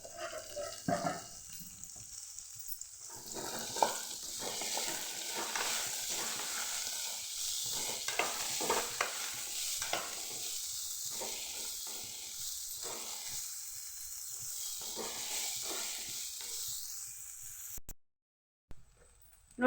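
Okra frying in hot oil in a pan for a chutney, a steady close sizzle and hiss with intermittent scraping stirs throughout, cutting out briefly near the end; nobody talks.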